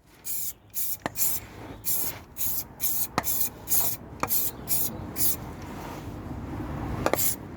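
Repeated short hissing bursts of aerosol spray, about a dozen quick puffs in an uneven rhythm, close and fairly loud, with faint talk underneath.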